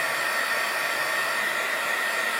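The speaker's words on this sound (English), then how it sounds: "I use a little the heating gun on the first setting, and just a little dry them up" A heat gun on its lowest setting blows over folded paper for an origami jewellery box, a steady, loud, unbroken airy whoosh with a motor whine and no voices.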